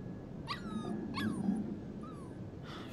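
A puppy in the video game Life is Strange 2 whimpers and yips in several high, rising-and-falling cries, close and fairly soft against a quiet outdoor background.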